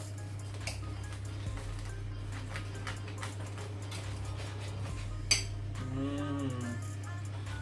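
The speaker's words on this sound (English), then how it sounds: "Oh, the bread's lovely and crispy. I'm just going to cut it in half." A knife cuts a crispy bread roll for a vegan meatball sub in half, heard as a few close crunching strokes and light clinks against a steady low hum, with no speech.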